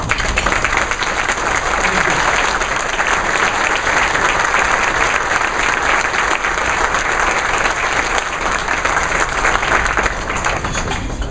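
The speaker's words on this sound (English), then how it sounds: "this might be a good opportunity to give them a round of applause" Sustained, loud applause from a luncheon audience honoring coaches at a scholar-athlete event, a dense, even roar of many hands clapping that holds steady for over ten seconds without letting up.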